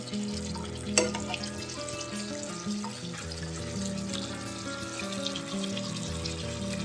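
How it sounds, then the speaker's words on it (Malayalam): Masala is poured over fried chicken in a pan, giving a steady sizzle and bubbling with light stirring sounds and one sharp clink near the start, all without any talking. "ഈ മസാല നന്നായിട്ട് ഇതിൻ്റെ മുകളിലേക്ക് ഇതുപോലെ കുറച്ചായിട്ട് ഒഴിച്ചു കൊടുക്കാം"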